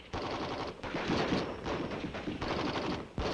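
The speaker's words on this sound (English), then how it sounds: "The M14 rifle is designed for both full automatic and semi-automatic fire." An M14 7.62 mm rifle fires fully automatic, sending rapid, crackling bursts of gunfire in several quick strings, moderately quiet and distant-sounding, with no voices.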